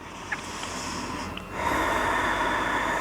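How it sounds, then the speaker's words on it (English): Slow breathing during a seated yoga hip stretch, a soft inhale followed by a longer, louder airy exhale, close to the microphone with a faint hum in the room. "Just taking a few breaths there."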